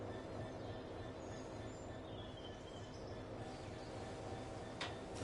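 A Freightliner Class 66 diesel locomotive in Train Sim World 4 gives a steady, low rumbling drone with rail noise that holds at an even level for about five seconds. A faint whine sits above it and a short sharp burst comes near the end.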